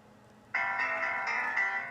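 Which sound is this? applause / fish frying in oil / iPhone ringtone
iPhone ringtone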